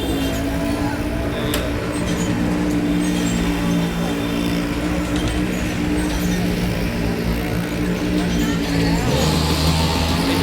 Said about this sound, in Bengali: মেলায় প্রবেশ করেই মরণ কূপের আওয়াজ শুনতে পেলাম